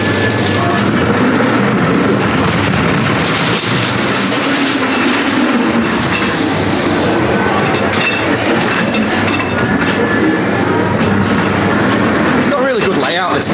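Blackpool Pleasure Beach ghost train ride rolling on its rails, a loud steady rumble and rattle filling the whole stretch, with riders talking over it and a brief squeal near the end.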